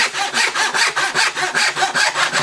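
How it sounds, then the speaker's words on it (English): A hand saw rasps through wood in steady back-and-forth strokes, about four per second, loud and close with no voices. "with a hand saw, I don't know the difference. I'm just sawing to whatever line shows up"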